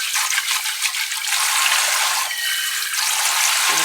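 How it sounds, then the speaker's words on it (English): Tap water gushes into a kitchen sink in a steady, close, hissing stream with no voices. "So let's get the water going."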